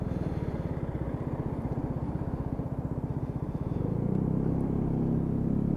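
A Lexmoto Aura Euro 5 125cc motorcycle rides along a road, its small engine pulsing in a rapid, even throb before shifting to a smoother, louder drone near the end, heard close with no talking.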